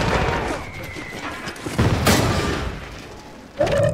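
A bomb explosion in the video game Warzone 3.0, a loud boom with a rumbling tail and a second blast near the end, heard under the game's background noise.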